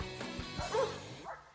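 Sled dogs, huskies on a trail, bark and yip in a few quick, faint bursts under soft background noise.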